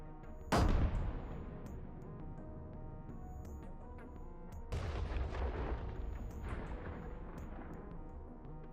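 A loud explosion bursts out near the start and rumbles off, then a second heavy blast follows midway, its roar trailing away under a low steady hum: FPV drone bombs hitting armored vehicles in a Russian convoy.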